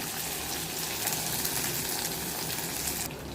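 Onions sauté in a pan for a traditional village-style mudakathan kuzhambu, producing a faint, continuous sizzle and watery hiss with no voices.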